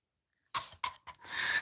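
Three short, sharp coughs follow a near-silent start, each a breathy burst close to the mic, ending in a longer rasping exhale.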